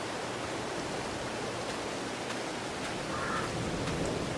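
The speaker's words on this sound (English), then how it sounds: "funny how you can hear the rain when you're inside the vehicle" Rain drumming on a tractor cab in Farming Simulator 22, a steady broad hiss heard from inside the vehicle, continuous and even with a few faint ticks, no voices.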